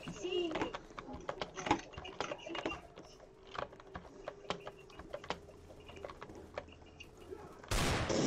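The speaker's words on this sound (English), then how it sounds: "who's shooting me?" Gunfire in a video game: scattered, fairly faint shots and sharp clicks crackle irregularly, with a brief burst of louder noise at the end.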